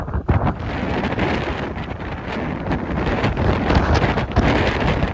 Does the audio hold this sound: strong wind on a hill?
yes